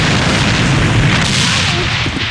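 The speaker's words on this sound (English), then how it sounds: "Grenade! Straight ahead!" A loud, heavy grenade blast in a sniper shooter game fills the clip with a sustained booming roar and rumble close up, with no pause.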